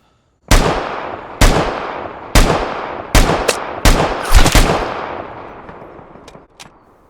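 Gunfire in the video game Vigor: several sharp, loud shots spaced about a second apart, the last few closer together, each with a decaying echo, then a couple of faint clicks.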